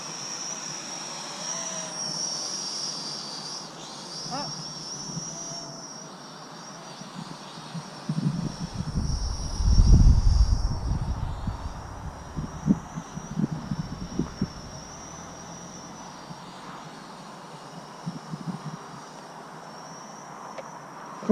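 An 8807HD-G toy drone flies outdoors, its thin high-pitched rotor whine holding steady throughout, with a louder low rumble of nearby handling or wind swelling midway.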